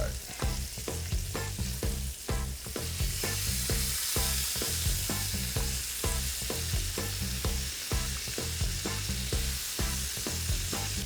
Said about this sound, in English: We're just gonna flip them over so they get nice and golden on the second side.